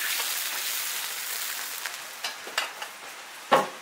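A fish head simmers in a wok over low heat after sugar and salt go in, giving a soft, steady bubbling hiss with a few faint pops and one louder splash-like sizzle near the end.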